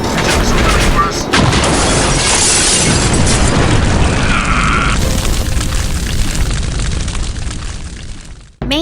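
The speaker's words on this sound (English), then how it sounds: "Heads up, there's a missile coming for us." A missile explodes in the Three D Velocity flight video game, a loud booming blast that rumbles on for several seconds over the game's continuous engine drone.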